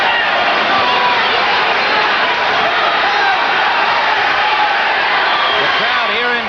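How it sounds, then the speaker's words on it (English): A boxing crowd in Kingston roars steadily throughout, a dense, loud wash of cheering and shouting from a large audience with a commentator's voice running over it. "The crowd here in Kingston trying to rev up Costello."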